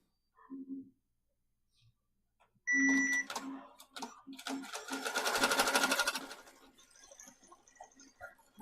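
An embroidery machine stitches a distressed patch on a hat, its fast whirring bursts starting and stopping in uneven runs with brief pauses, loud and close, with a person speaking faintly between runs.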